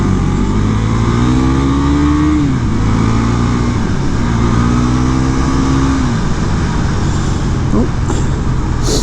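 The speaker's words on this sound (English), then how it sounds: "Hit the rev limiter there, I missed the gear." Husqvarna Svartpilen 401 motorcycle engine revs hard with rising harmonic sweeps, twice climbing up to bounce off the rev limiter after a missed gear, loud and close amid steady wind and road roar.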